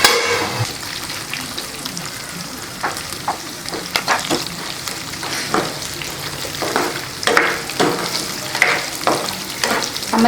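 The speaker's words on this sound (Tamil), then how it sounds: "நம்ம சிம்மில் வச்சு மூடி வச்சுட்டாலும் அப்பப்போ எடுத்து இது மாதிரி நல்லா கிளறி விட்டால் தான் 2 பக்கமும் நல்லா சமமாக வேகும்" Chicken pieces fry steadily in a pan on a low flame, a continuous close sizzle broken by repeated scraping stirs as the pieces are turned; no voices.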